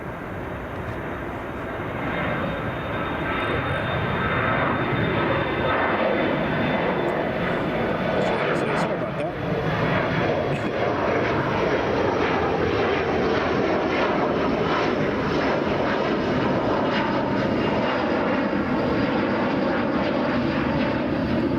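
Airliner engines roar loudly at Chicago O'Hare International Airport, a sustained powerful rumble and whine that swells after a few seconds and holds steady, with occasional voices underneath.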